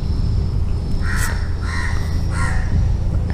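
A crow caws three times in short bursts close by outside a shopping mall, over a steady background hum, with no talk during the calls.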